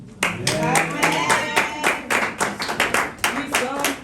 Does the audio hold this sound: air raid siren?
no